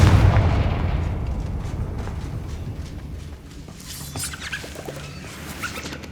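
A Confringo fire spell bursts in the Hogwarts Legacy video game as a loud, deep boom at the start that rumbles and fades, followed by quieter crackling and scattered clatter.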